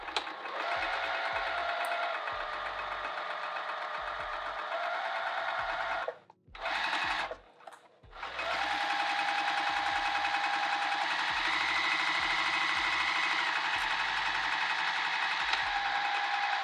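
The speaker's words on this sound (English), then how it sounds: "I'm going to sew right down that edge with a 3/8 inch seam allowance." A sewing machine stitches a handbag seam with a 3/8 inch allowance, a fast steady mechanical whir running close and continuous, broken by one brief pause in the middle before resuming.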